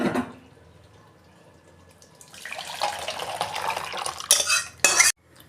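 Boiled lentils (dal) tipped out of a metal pot, giving a close, busy splashing and scraping run of a few seconds, building toward sharp clatters near the end, with no talk.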